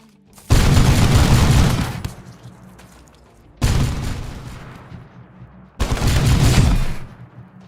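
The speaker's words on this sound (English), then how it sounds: "everybody else in the trap base could like hear the thump of those bolters" Bolter fire from Space Marines in the Rimworld Rimdark 40k mod: three long bursts of booming, thumping gunfire, each lasting a second or two with decaying tails between them.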